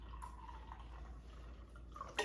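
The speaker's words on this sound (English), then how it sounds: "I'm pouring this Kangen water in it." Kangen water is poured into a container, heard as a faint, steady liquid trickle with light dripping, quiet and close throughout, ending in a slightly louder splash.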